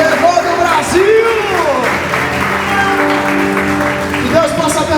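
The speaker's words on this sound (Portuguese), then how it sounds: "Aplauda o Senhor pela vida do Marcelo" Church congregation applauding and cheering during a service, steady clapping with scattered whoops and shouts, mixed with voices and sustained background music throughout.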